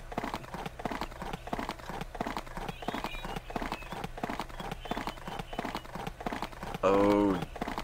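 Galloping horse hooves from the video game Barbie Riding Club thud in a fast, steady rhythm throughout, and a horse whinny cuts in loudly near the end.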